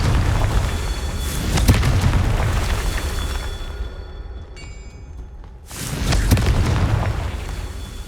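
Confringo, the fire-blast explosion spell in Hogwarts Legacy: a loud booming burst with a long rumbling roar, a brief quieter lull, then a second heavy blast that rolls on and fades.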